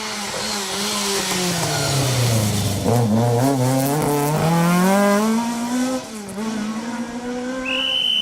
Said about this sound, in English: Car 36, Richard Hall.